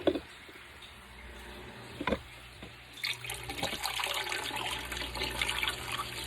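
Hot water being poured into jars of green beans for home canning: a steady liquid pour that rises and fills, with a few clinks and knocks of glass, close and fairly loud.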